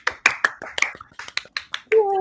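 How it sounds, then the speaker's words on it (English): A few players at a tabletop role-playing game session clap in scattered, uneven bursts, about ten sharp separate claps close to the microphone, ending in a short voice or tone. "Everybody, a round of applause."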